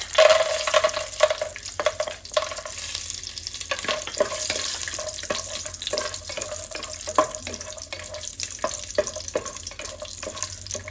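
Cashew nuts frying in ghee in a hot pan, heard as a steady close sizzle with repeated scraping stir strokes throughout, no voices.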